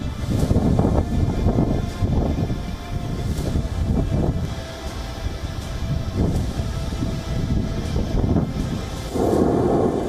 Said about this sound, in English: Explosions rock southern Lebanon.